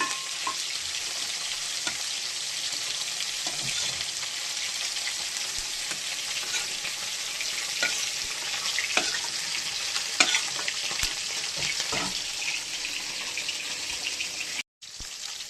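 Prawns fry in hot oil in a pan, giving a loud, continuous crackling sizzle with scattered sharp pops and the clicks of stirring throughout, no voices.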